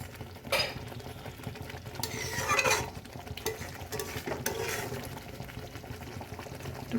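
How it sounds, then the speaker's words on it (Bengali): A pan of egg korma simmers with a soft bubbling under light clinks and scrapes of a spoon stirring. The sound is fairly quiet and close, with a couple of brighter rattles early on. "এটা ফুটবে দেখুন।"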